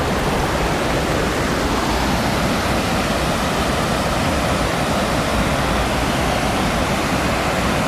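Water pours at Cachoeira do São Nosso with a dense, unbroken roar, loud and constant throughout, with nothing else standing out.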